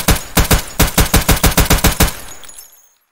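A PL-15 pistol fires fast in the game Escape from Tarkov: about a dozen sharp, loud shots in a quick uneven rhythm, then a brief fading echo.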